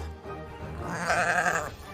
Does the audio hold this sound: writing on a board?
no